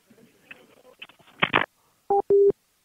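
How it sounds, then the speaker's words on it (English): Two short, loud telephone busy-signal beeps follow a burst of muffled handset noise right after a caller hangs up on a live radio call-in show, the tones steady and evenly spaced. "And he hung up."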